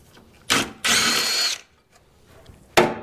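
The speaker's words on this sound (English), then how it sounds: "I went and got the lazy ratchet." A lazy ratchet tool whirs in three short, loud bursts, the middle one longest, with quiet pauses between, during work on a Land Rover 110 build near the filter housing.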